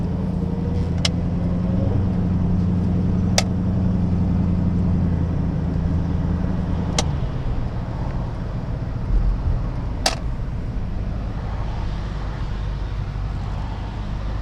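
A Rover car engine burbles low and steady at close range, with a few sharp clicks or ticks over the hum and no voices.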